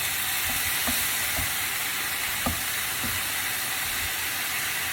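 Rice with cumin seed, chili flakes and black pepper sizzling steadily in a pan while a spoon stirs, with a few soft scrapes over a constant frying hiss.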